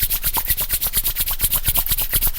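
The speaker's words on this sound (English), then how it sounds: "Bring hands together, start rubbing your palms" Palms briskly rubbed together to warm them, a fast rhythmic swishing of skin on skin repeated about eight times a second, close and loud with no talking.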